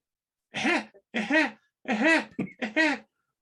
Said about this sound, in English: I'm gonna cough. Hold on 1 second.